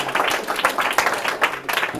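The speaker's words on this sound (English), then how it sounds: "Let's give him a round of applause." Audience applause for a sales trainee after a pitch role-play in a sales training session: a steady patter of many hands clapping for about two seconds, with no talk over it.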